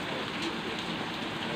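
Pouring rain falls steadily at an outdoor work site, a dense even hiss of drops on surfaces filling the whole short stretch with no pauses or voices.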